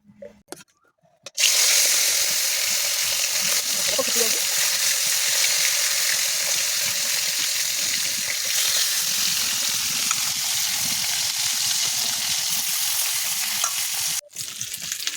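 Fish sizzles steadily in hot oil in a kadai, a loud, dense crackling hiss that starts abruptly after a brief quiet moment and continues unbroken, close to the microphone.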